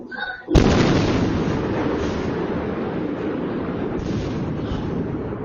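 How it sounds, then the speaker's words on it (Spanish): A single sudden explosion, captured on a security camera, cuts in after a quiet moment, then a long, heavy roaring rumble lingers at steady loudness. "se puede escuchar el momento de la explosión"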